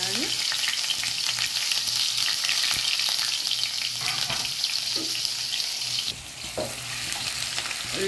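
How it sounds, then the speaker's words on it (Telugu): Green chilies and onions frying with vegetables for an Arabian mutton dish, a loud continuous close sizzle broken by occasional scraping stirs. "వెజిటేబుల్ అన్నీ వేసి పచ్చిమిరపకాయ ఉల్లిపాయలు వేయించుకోవాలి"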